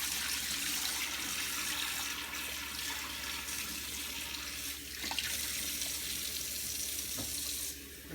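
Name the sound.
pouring off water and rinsing a bowl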